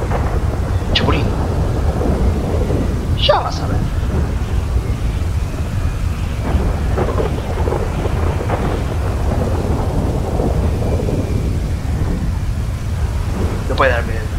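Heavy thunderstorm in GTA V: continuous loud rain and rumbling thunder fill the scene, with a few sharp cracks standing out, while someone speaks Spanish over the downpour.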